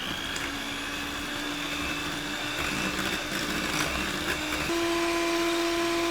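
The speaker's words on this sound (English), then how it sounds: "And then we're gonna mix all that together." Chai cookie dough ingredients are mixed with an electric mixer that gives a steady, close motor hum. The pitch shifts slightly as the beaters work, and no voices are heard.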